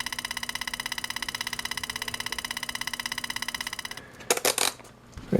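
A car engine idles at about 1,000 RPM with a steady, rapid pulsing beat for four seconds, then cuts to a few sharp clanks and bursts near the end.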